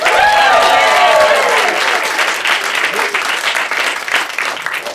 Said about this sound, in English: A round of applause for Topher.